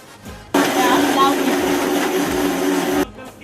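An electric mixer grinder whirs loudly as it grinds turmeric, spices, coriander, garlic, onion and coconut, starting abruptly, running steadily for about two and a half seconds, then cutting off, with faint background noise on either side.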